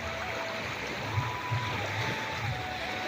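Floodwater flows steadily through a village in Purba Bardhaman near the Ganga, a constant rushing wash with faint low splashes and no clear speech over it.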